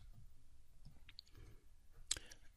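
Sparse, quiet clicks of typing on a computer keyboard, a few isolated key taps spread irregularly over a faint background, with one sharper click near the end.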